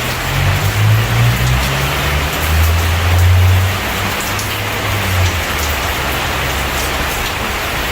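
Steady rain falls without a break for the whole stretch, a loud close hiss of drops on surfaces with a low rumble underneath and no voices.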